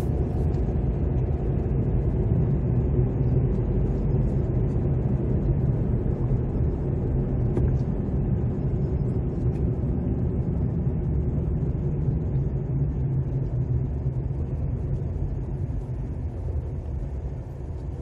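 A car drives through the downtown streets of Charlottetown along Fitzroy Street, giving a steady, close, continuous engine and road rumble that holds level the whole time, with no talk over it.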